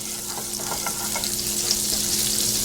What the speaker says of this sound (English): once the butter has stopped foaming like this